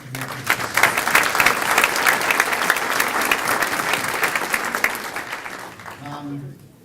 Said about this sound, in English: So I could just ask for a round of applause for people who put all the work to make this.